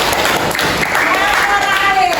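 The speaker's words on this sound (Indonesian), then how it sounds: "tepuk tangan kalian" Classroom audience applause during a teacher training lesson in Indonesia, steady dense clapping throughout the short moment, with some voices mixed in underneath.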